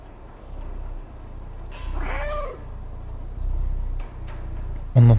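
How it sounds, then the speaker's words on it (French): A cat in the video game Stray purrs in a low rumbling hum that pulses in a few long waves, with a short meow in the middle and a loud thump at the end. "On entend les ronronnements."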